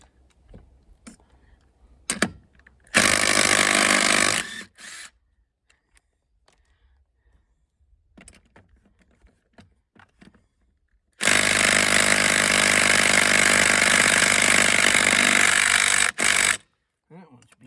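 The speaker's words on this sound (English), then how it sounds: "I'm gonna start by taking the lug nuts loose" Power tool loosening lug nuts on a quad (ATV) wheel: two loud whirring bursts, a short one and then a longer one, separated by quiet gaps with faint handling clicks.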